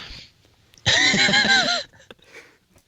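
A dog barks indoors in one loud burst of about a second, with several quick overlapping yaps, framed by quiet room sound and faint talk before and after.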